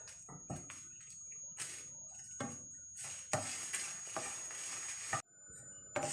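Dried chilies dry-roasting in an oil-free pan while being pressed down, giving close bursts of scraping and rustling with faint sizzle and short pauses between strokes, no talking.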